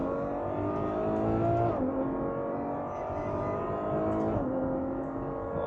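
Ferrari FF with a 651-horsepower V12 revving, a steady loud engine note that rises and dips twice as it changes pitch, close by with no talking.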